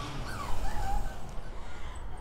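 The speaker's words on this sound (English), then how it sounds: "I'm fixing to have to go and figure out what's wrong with this puppy. I don't know what she's fussing about." A puppy fusses outdoors in a spring garden, with soft, high, rising and falling whimpers and whines over a low background rumble and no voices.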